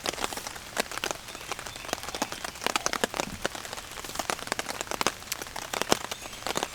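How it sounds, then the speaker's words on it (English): Steady rain patters on a surface outside a camping hammock on a river trip, dense close drops with frequent sharper taps, no talking. "staying dry under the rain"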